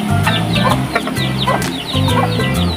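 Hungry chicks and adult chickens on a farm clucking and peeping steadily up close, overlapping calls filling the scene with no talk.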